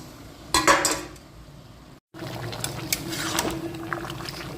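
Country chicken pieces tipped into a cooking pot over garlic, ginger and onion: a clattering burst of impact and clinks near the start, a brief gap, then steady cooking hiss and light metallic scrapes.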